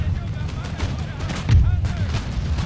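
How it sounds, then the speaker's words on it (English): Mortar fire in the strategy game Empire: Total War, Maratha campaign: dull booming launches and battlefield rumble over a busy din of distant gunfire, with a heavier thump about midway. "Almost got a hit on the arc with the mortars."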